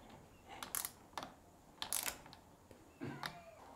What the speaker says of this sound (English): using a torque wrench, tighten the seat clamp